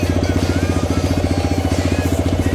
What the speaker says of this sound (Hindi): मैंने न्यूट्रल पे डाल दिया बाइक को और आइडियली स्टार्ट कर दी, तो बाइक में वाइब्रेशंस देखिए।